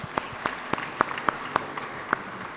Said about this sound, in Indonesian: Tepuk tangan untuk alumni.